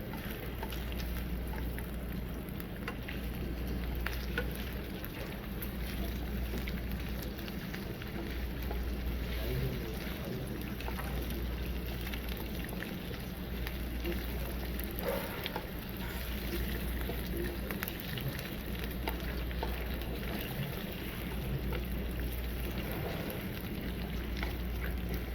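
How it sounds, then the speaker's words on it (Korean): Pork jowl sizzles in doenjang sauce in a pan over low heat, a steady soft hiss and crackle running unbroken throughout with no voices. "지금까지 잘 볶고 있어요. 잘, 약한 불에서 잘하고 있어."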